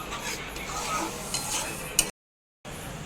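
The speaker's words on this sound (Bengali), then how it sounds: "তারপর এই মশলাটা খুব ভালো মতো কষে নিচ্ছি" Spice paste sautés in a pan for Kashmiri dum aloo, a continuous soft sizzle with light stirring scrapes and a small clink, cut by a brief dropout of near silence before the frying resumes.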